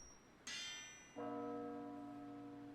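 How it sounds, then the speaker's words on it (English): Two giant bells in the video game NOSE ring in turn, a bright high strike followed by a lower, fuller toll that hangs and slowly decays, loud and clear with no voices. "Those gigantic nose bells."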